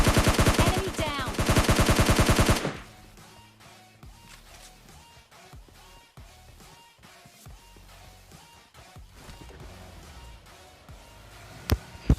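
Gunfire in PUBG Mobile Lite during a solo-versus-squad match: a loud rapid automatic burst at the start, then quieter scattered shots and game sounds, with one sharp close shot near the end.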